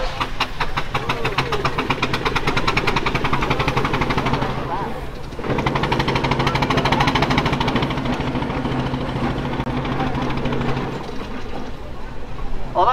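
A Burrell Gold Medal Tractor steam traction engine chuffs and knocks in a steady rapid rhythm at a steam rally, loud and close, with a brief dip midway and faint voices underneath.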